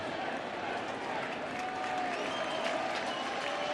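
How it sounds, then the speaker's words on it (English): A packed baseball stadium crowd at a World Series game in Washington claps and cheers in a steady, sustained roar of applause, loud and continuous throughout. "this crowd tries to cheer him on"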